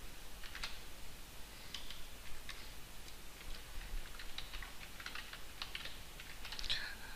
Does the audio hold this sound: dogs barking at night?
no